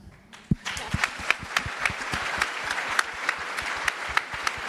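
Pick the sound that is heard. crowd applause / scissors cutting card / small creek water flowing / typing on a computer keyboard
crowd applause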